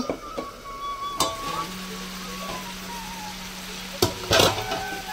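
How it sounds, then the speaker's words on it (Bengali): Cabbage and potato cook in a pan as they are stirred, giving a soft steady sizzle with a few sharp scrapes and clatters of the spoon, close and without speech. "আর এখন এটা নেড়ে দেবো।"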